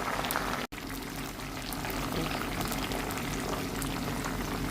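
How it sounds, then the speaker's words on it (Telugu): A mix of herbs for a hair oil, including tulsi, parijatham and dried gooseberry peel, simmers in oil over a low flame with a constant, close bubbling and crackling fizz that runs on without pause. "ఈ ప్రాసెస్ మొత్తం అంతా లో ఫ్లేమ్లో చేసుకోవాలి స్లోగా వీటిని మరగనివ్వాలి"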